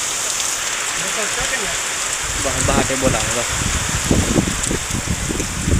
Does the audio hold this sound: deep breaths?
no